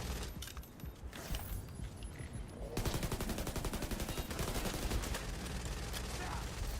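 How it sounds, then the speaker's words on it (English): Gunfire rattles in Division 2 while shots are aimed at a sniper turret: scattered shots at first, then a dense, continuous automatic burst, with rapid clicks and clatter underneath. "I'm trying to shoot the fucking sniper turret, but I can't"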